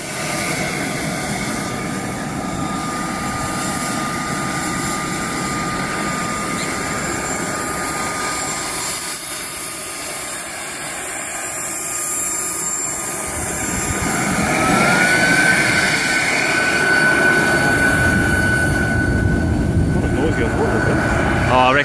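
A scale model jet aircraft engine runs continuously nearby, a loud steady whining roar with a high turbine tone that swells louder in the second half as it is throttled up.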